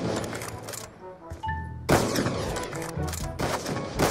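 Gunfire in Call of Duty: Black Ops 2 during a one-on-one match, several loud close bursts of rapid shots broken by short pauses, with brief pinging game sounds in a quieter gap between them.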